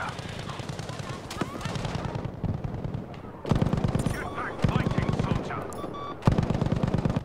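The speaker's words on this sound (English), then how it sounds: "Low-key, Lewis might be best gun in the game." Lewis Gun fire in Battlefield 5: loud, rapid automatic bursts crackling close by, broken by short pauses, with distant battlefield gunfire underneath.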